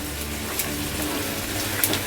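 A little water is poured into egg lababdar gravy as it cooks, making a soft, continuous pouring and bubbling sound close by for about two seconds, with no one speaking.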